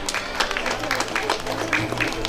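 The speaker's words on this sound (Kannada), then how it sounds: "ಎಲ್ಲರೂ ಚಪ್ಪಾಳೆ ತಟ್ಟಿ ಮಕ್ಕಳಿಗೆ ಪ್ರೋತ್ಸಾಹವನ್ನು ನೀಡಬೇಕಾಗಿ ಕೇಳಿಕೊಳ್ಳುತ್ತಿದ್ದೇನೆ" An audience at a children's sports prize distribution at a temple event claps in a dense, steady burst of applause, with voices mixed in.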